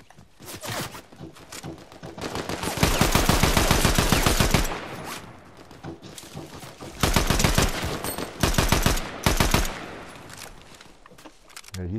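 Rapid video game gunfire from a Fortnite duos match, heard as two long bursts of automatic fire plus shorter volleys, loud and close, with quieter stretches between.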